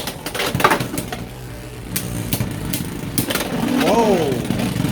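Beyblade X spinning tops, including Hell's Hammer, clash and whir inside a battle stadium, giving a buzzing, rattling grind with sharp clicks of impact. The sound stays steady and grows a little louder near the end, and voices talk over it.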